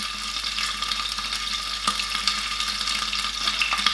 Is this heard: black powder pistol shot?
no